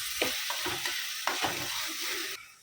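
Spices sizzle in a hot pan as yogurt is added and a spoon stirs and scrapes in a few irregular strokes, close up and without talk.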